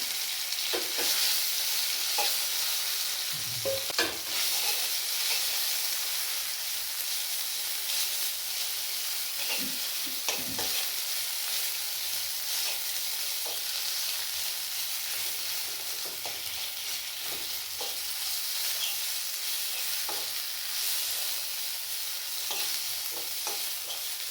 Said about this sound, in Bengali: ফোড়নটা হয়ে গেছে মাছ বাটাটা দিয়ে দিলাম